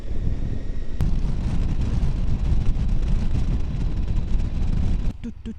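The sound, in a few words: wind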